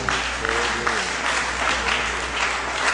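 Sustained applause from a church congregation honouring its elders, a steady dense clatter of many hands lasting throughout, with some voices mixed in underneath.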